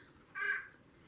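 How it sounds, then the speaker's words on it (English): A bird clock sounds the chiming call of a white-breasted nuthatch, a single short, fairly faint note lasting about a quarter second over a quiet room background. "And there's my bird clock. And that's the white-breasted nuthatch."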